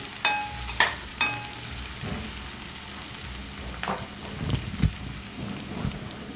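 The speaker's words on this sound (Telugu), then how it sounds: "ఇందులో 10-15 వరకు జీడిపప్పులు వేసి గోల్డెన్ కలర్ వచ్చేంత వరకు ఫ్రై చేసుకోండి" Onions and cashews fry in hot oil, a close crackling sizzle broken by several sharp clinks and knocks of a spoon against the pan.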